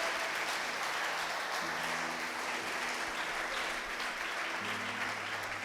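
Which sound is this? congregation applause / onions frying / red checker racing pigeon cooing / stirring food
congregation applause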